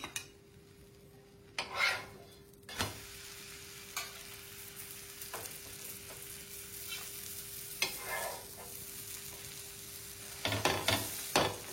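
Oil sizzles softly under a masala dosa with potato filling on a hot pan, broken by scraping and clinks of a spatula against the metal at irregular intervals.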